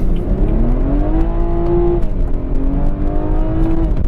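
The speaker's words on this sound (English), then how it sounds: "that turbo comes on so fast and it holds so consistently" A 2016 BMW 340i F30 with a turbocharged engine pulls hard in first gear, its loud, steady engine note rising smoothly in pitch for about two seconds before a brief dip and another climb.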